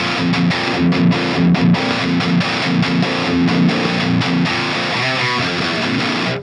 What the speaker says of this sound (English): 2 channels of orange distortion. This sounds nice.